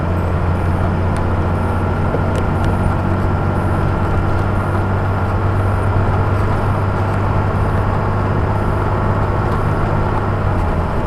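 A truck with a 47RE automatic transmission pulls away from a standstill under heavy throttle. A loud, steady engine drone and drivetrain hum carry through the whole stretch, with no voices.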